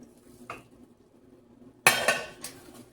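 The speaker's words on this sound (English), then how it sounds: "I'm going to stir my rice" Rice being stirred in a pot: a faint early clink, then a sharp metallic scrape and clatter of a spoon against the pot, followed by a quieter knock, heard close with no talking.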